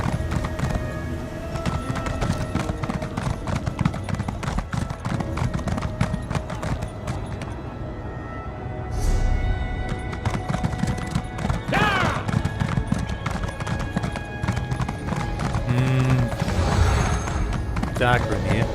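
Horse hooves clip-clop in a steady galloping rhythm while riding in The Elder Scrolls Online, loud and close throughout, with occasional whinnies and someone talking over them.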